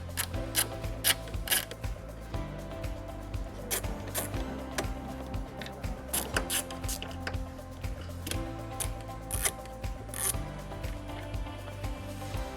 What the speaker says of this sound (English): Using an 8mm socket, we're going to remove 2 screws that are located at the tail lights.